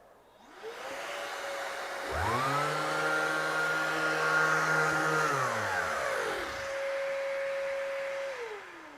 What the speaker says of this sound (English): I'm going to throw the extractor back on there